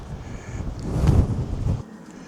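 Strong wind buffets the microphone at the Cliffs of Moher in Ireland, a steady low roar that swells in the middle and drops off near the end, with no talk.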